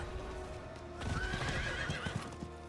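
Horse in Diablo IV whinnies loudly and close while hooves clip-clop in a steady rhythm, with the gallop growing busier after the first second.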